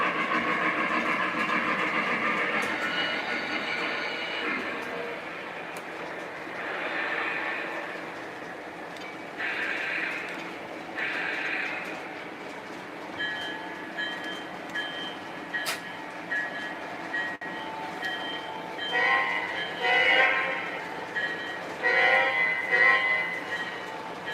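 A model Conrail train on a layout backs out, its rolling clatter and mechanical whirring steady and close, with scattered clicks and brief higher tones near the end; no one speaks.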